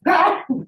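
A single sneeze, close and fairly loud, with a sharp burst followed by a softer tail.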